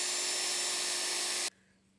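A power drill boring out the end of a crack, a steady high-pitched whirring grind close by that stops abruptly after about a second and a half, leaving only a faint low hum.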